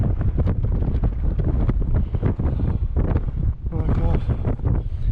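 Strong gusting wind batters the microphone on the exposed East Peak of Y Lliwedd, a loud continuous roar with buffeting surges, and a voice briefly exclaims over it.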